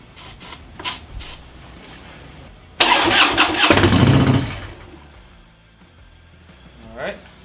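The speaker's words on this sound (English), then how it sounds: "Let me put some starting fluid in it and see what it does." A Harley-Davidson motorcycle engine cranks after starting fluid is sprayed into it, a loud close burst of mechanical churning that lasts a couple of seconds and then fades, with brief voices before and after.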